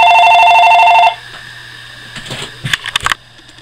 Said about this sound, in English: sorry, I got a phone call.